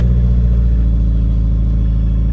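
Subaru Outback engine fired up after a bad ECU was replaced, a loud close steady idle rumble holding even and continuous with no voices.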